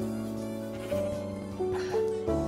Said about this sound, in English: there's some weird sheep over there